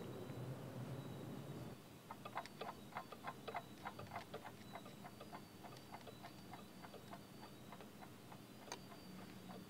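A clock ticks steadily in a video game scene with a cuckoo clock shop, soft regular ticks starting after a brief quieter moment and continuing evenly, fairly faint and alone.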